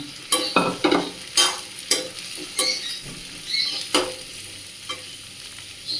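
Shredded raw papaya frying in oil over low heat: loud, close crackling sizzle broken by repeated scrapes and knocks of a spatula tossing the shreds, fading to a softer, quieter sizzle toward the end.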